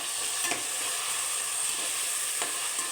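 Onions and tomatoes sizzling in a pan for mushroom biryani, a constant close frying hiss with a couple of brief stirring scrapes and no talk.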